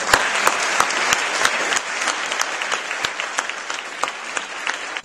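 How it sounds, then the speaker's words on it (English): A crowd applauds steadily for several seconds at an officers installation ceremony, a dense patter of clapping hands that fades slightly near the end. "give them a round of applause"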